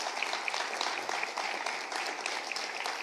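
Church congregation clapping loudly and continuously, a dense crowd of hands applauding for several seconds without talk.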